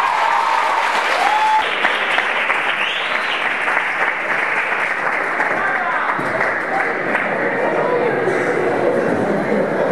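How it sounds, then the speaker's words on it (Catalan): A school audience applauds at a high school graduation ceremony, with steady, continuous clapping from many people under a faint background murmur of voices. "un cop aplaudiment"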